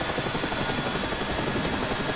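Engine and rotor of a Mil Mi-8 MTV Hip helicopter in the DCS flight simulator, a steady, loud turbine whine with rhythmic rotor chop filling the whole stretch, with no talk.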